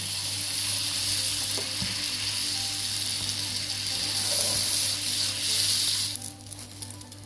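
Sandwich bread halves frying in butter in a pan give a steady, close sizzle that runs continuously, easing slightly near the end.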